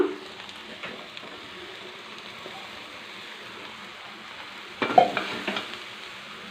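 Cooked rice stirred and fried in a pan for cabbage, egg and chicken fried rice gives a faint, steady sizzle, broken near the end by a short louder burst of scraping and stirring.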